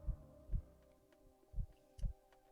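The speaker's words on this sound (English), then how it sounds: "that sound of heartbeat stays with you." A heartbeat sound effect throbs in deep, muffled paired thumps, lub-dub pulses repeating at a slow steady pace under a faint low hum, with no voices.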